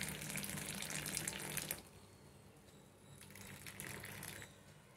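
Boiled milk streams into South Indian filter coffee decoction with a close, steady splashing pour that stops abruptly, then a softer second pour trickles in after a short lull.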